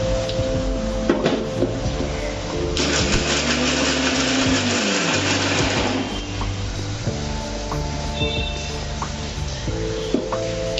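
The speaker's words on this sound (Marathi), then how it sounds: "ह्या लसणाच्या पाकळ्या, हे खोबरं, कोथिंबीर ह्यामध्ये टाकणार आहे, थोडेसे जिरे आणि आता आपण हे मिक्सरला बारीक करून घेऊ" An electric mixer grinder whirs loudly as it blends garlic cloves, coconut, coriander and cumin into a paste, a continuous motor drone whose pitch and texture shift partway through, with no talking.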